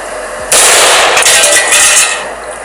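A 9mm round fired from a Rex 01 pistol strikes a metal shovel outdoors, a single loud, sharp blast and impact with a ringing, noisy tail.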